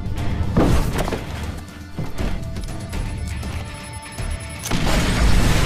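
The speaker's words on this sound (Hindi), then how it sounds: "विस्फोट, C4 का कमाल।" C4 explosive detonating in the video game Splinter Cell: Conviction, a sharp crashing boom followed by rumbling debris and mechanical clatter, then a second loud burst near the end.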